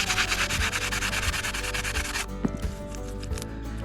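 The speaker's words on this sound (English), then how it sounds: "Okay, so we're gonna try to sand this just a little bit here." Hand sanding on a sailboat staysail cart, a steady rhythmic back-and-forth rasp of close strokes that runs for a couple of seconds, then gives way to quieter scraping and small knocks.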